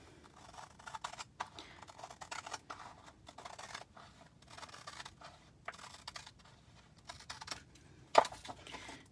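Scissors snip repeatedly through a paper stencil in short, uneven bursts, close and crisp, with one louder snap near the end.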